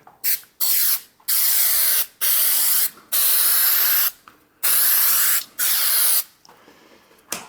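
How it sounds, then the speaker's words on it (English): Spray adhesive hisses from a can onto a ceiling in about seven loud, close bursts, each lasting under a second and separated by brief pauses. "I am going to put some spray adhesive like this here on it"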